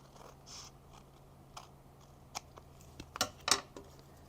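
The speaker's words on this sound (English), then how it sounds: "you can either put it in your trimmer or use your scissors," Scissors snip off excess patterned paper during a tag-making craft session, a few quiet, sparse cuts building to two sharper, louder snips near the end, no talk.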